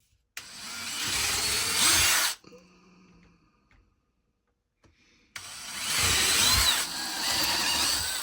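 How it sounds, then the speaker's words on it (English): A power drill whines loudly for about two seconds, falls quiet with faint rattling, then whirs again for a longer stretch as it bores holes through plastic costume armor plates. "you're just going to go down the line, drilling a hole in the center of each"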